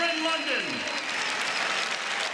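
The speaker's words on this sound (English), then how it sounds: "please give these two warriors a round of applause for two exhilarating rounds of action here at the sold-out O2 Arena here in London" A sold-out crowd at London's O2 Arena applauds two boxers after their bout, dense sustained applause and cheering at even loudness throughout, with a faint voice fading under it at the start.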